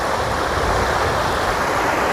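Steady broadband rush of the Meghamalai waterfall fills the clip, loud and unbroken with no variation in level and no voices.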